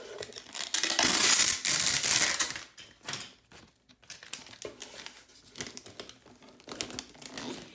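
Cardboard box being sealed shut with packing tape, with a loud crinkling rip of tape pulled off the roll followed by scattered crackles, presses and rustles as it is smoothed down nearby, no talking.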